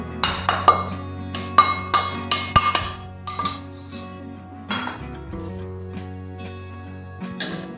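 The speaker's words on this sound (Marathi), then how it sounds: "तापलेल्या तुपात मी आता उडदाच्या डाळीचे पीठ टाकून घेते आहे" Urad dal flour being stirred as it roasts in hot ghee in a pan, a run of sharp metallic spoon clinks and taps against the pan, close and distinct, thinning out toward the end with no talking.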